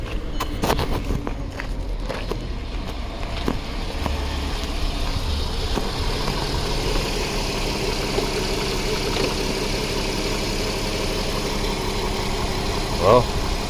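A 2008 Volkswagen Passat 3.6 liter engine with a rough-running, extended-crank fault turns over with a few sharp cranking clicks, then settles into a steady, moderately quiet idle rumble that holds for the rest of the stretch.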